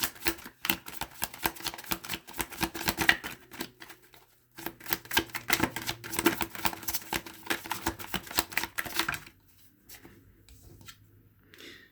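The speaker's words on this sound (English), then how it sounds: "We're going to go ahead and pull the rest of your cards." Tarot cards shuffled and pulled from a deck, producing dense rapid riffling and flicking bursts with a short pause midway, ending in quiet handling.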